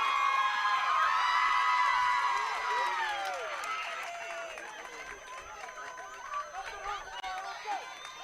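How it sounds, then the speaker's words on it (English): Teammates cheer and greet a player at home plate after a home run in a high school regional championship softball game between Dover and Bloom-Carroll, a loud crowd roar at first that fades into busy chatter and scattered shouts. "she's greeted, understandably, by cheering teammates at home plate"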